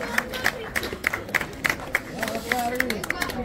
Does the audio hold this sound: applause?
yes